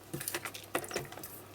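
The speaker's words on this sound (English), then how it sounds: "I'm just going to bring my paper trimmer back in, and I'm just going to trim that off" A paper trimmer slices through card in a quick run of small, close clicks and scratchy rasps lasting under two seconds.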